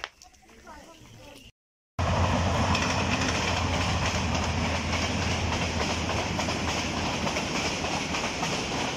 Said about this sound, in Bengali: এটা লোকাল ট্রেন ছিল